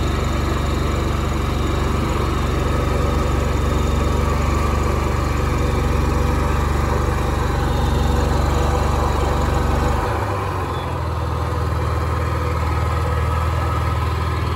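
A Honda EU7000is inverter generator, fitted with a tri-fuel conversion, runs steadily on natural gas with no load, giving a loud, continuous engine drone whose low rumble drops in pitch partway through as the engine settles.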